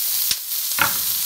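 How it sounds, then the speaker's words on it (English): Onions dropped into hot butter in a pan, two brief clattering impacts followed by a steady soft sizzle, close and quiet with no talk. "I have a little bit of butter on the bottom of the pan, and then I add my onions."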